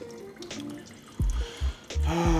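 Food being rinsed under a running kitchen tap: a steady hiss of flowing water, with a few low thumps and a voice speaking over it toward the end.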